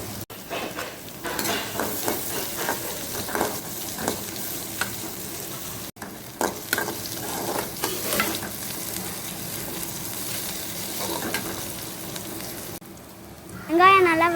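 Onions, dried red chillies and curry leaves fry in hot oil for a raw banana poriyal, giving a dense, steady sizzle with stirring throughout, a short break near the middle, and a brighter tonal sound right at the end.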